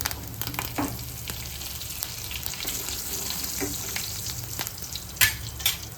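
Curry leaves hitting hot oil in a pan while making Navsari-style pav batata, a dense steady crackling sizzle throughout with occasional louder pops and stirring clatter, close by and without talk.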